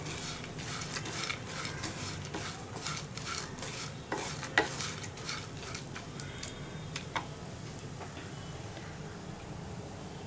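Pumpkin and watermelon seeds dry-roasting in a pan, stirred with a rhythmic rattling scrape and soft crackle, faint and close with no talk.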